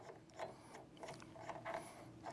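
A tubing cutter turns around refrigeration tubing near a sweat joint during a compressor change, giving soft, close, repeated metallic clicks and scraping squeaks in an uneven rhythm.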